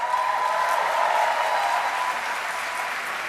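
Students at a university convocation applauding their standing faculty, a dense, even wash of clapping from a large hall audience, loud and sustained throughout.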